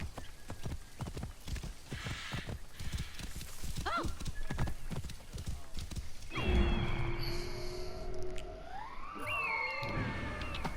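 Horse hooves clip-clop in the Assassin's Creed Origins video game, a steady galloping rhythm that then gives way to a horse's whinny and other game sounds.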